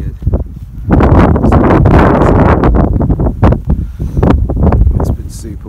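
Strong gusting wind buffets the microphone in loud rumbling bursts on a high mountain route in the Pyrenees, with rustling and flapping noise rising and falling.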